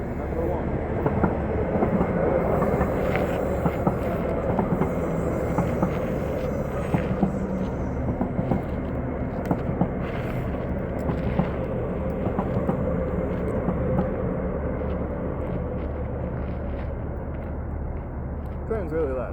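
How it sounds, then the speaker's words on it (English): A loud train passes close by an outdoor practice spot, its heavy rumble and roar filling the whole stretch at a steady, sustained level with scattered clanks and rattles. "Train's really loud."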